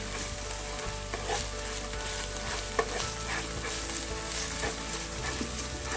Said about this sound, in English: You want to fry this in the oil.